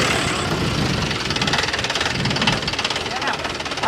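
A tractor engine idles close by with a steady, slightly knocking chug in a village setting, running under people talking throughout.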